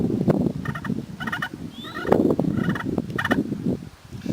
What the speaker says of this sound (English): and if I purr on the slate side,